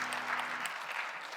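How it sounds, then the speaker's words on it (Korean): A church congregation at a Sunday young adults' worship service breaks into close, dense applause that fills the short moment, with a steady crackle of many hands clapping together. "박수로 서로의 삶을 응원하며"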